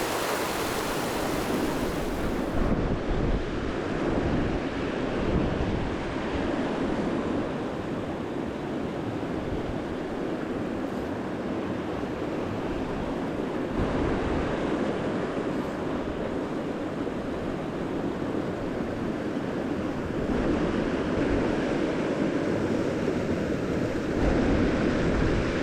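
Turbulent river water rushing through a wild stretch upstream in Lapland, a steady, dense roar that holds at an even loudness throughout with no voices.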